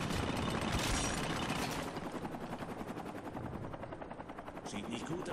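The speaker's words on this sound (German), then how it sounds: "Da kommt ein Heli!" A helicopter in the combat video game Spec Ops: The Line drones loudly with rotor chop, mixed with bursts of gunfire and tense shouted game dialogue over the top.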